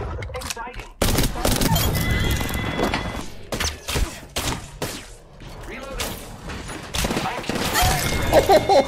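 A horse neighs amid the gunfire and impacts of an Apex Legends match, the whinny rising over dense, loud bursts of shooting with voices talking throughout.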